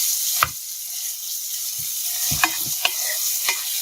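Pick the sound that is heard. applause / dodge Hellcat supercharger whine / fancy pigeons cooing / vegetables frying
vegetables frying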